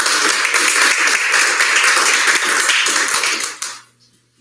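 Audience at a school board meeting claps steadily for several seconds, a dense spatter of hand claps that fades out abruptly near the end.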